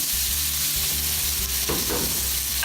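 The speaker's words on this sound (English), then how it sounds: "we're going to let that saute until it's slightly brown, about 7 minutes" Chopped onion sizzles loudly in olive oil and butter in a pan, a dense, steady frying hiss with no voices.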